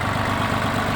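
A 20-horsepower Mitsubishi MT-20 four-wheel-drive Japanese mini tractor idles with a steady, close, low engine rumble that stays even throughout the short moment.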